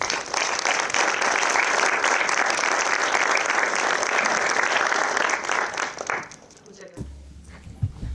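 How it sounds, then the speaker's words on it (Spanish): Audience applause welcoming a speaker at a conference session, dense sustained clapping for about six seconds that fades out, followed by near silence with light handling noise. "Hoy recibimos un aplauso a don Francisco Pérez"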